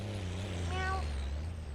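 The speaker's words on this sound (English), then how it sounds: "all of a sudden I just hear meow" A single short cat meow rises over the steady low rumble of a truck engine during a FiveM GTA roleplay patrol, the stacked mewing tones lasting under a second before the idling drone carries on alone.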